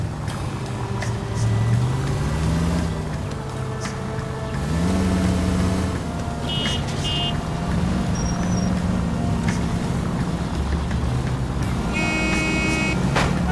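A car driven around the streets in L.A. Noire, its engine droning steadily for the whole stretch while the pitch climbs and drops through gear changes, with a few brief electronic tones over the top.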